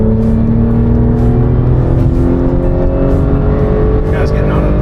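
A car accelerating hard on a winding driving road, its engine note climbing steadily in a loud, close roar that holds for several seconds, with brief voices underneath.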